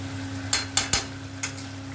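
Garam masala and ghee being stirred into chicken in a pan: a low steady sizzle with four sharp spoon scrapes and knocks against the pan, close and fairly loud.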